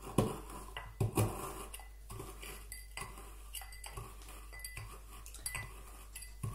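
Sugar and a few drops of bitters are muddled in a glass, producing repeated clinks and grinding scrapes of a muddler or spoon against the glass, close and fairly quiet, in an irregular rhythm.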